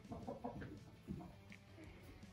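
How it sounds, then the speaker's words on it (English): Farm chickens, including blue laced red Wyandottes and a lavender Orpington, cluck softly nearby in short murmuring bursts, faint and close with a few brief higher calls. "And then the chicken crew."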